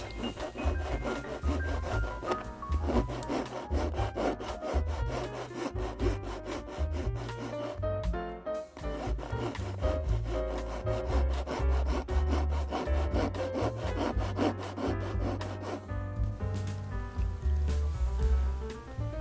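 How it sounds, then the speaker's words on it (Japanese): A file rasps against a part of an old Katsumi KiHa 82 model train to remove excess protrusions, making rapid, continuous scraping strokes that are close and loud with no talking. "余分な出っ張りをヤスリで削っていきます。"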